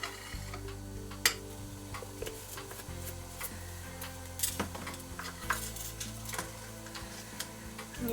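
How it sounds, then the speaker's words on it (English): Fimo liquid clay gel is squeezed, stirred and mixed, giving faint, close scraping and tapping clicks at irregular intervals over a quiet background hum. "And you just keep on squeezing and stirring and mixing."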